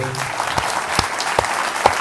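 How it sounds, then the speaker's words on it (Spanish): Audience applause at a memory, truth and justice conference session for speaker Andrés Asiain, a dense burst of clapping with a few sharp louder claps standing out, brief and fairly close. "Le pido un fuerte aplauso."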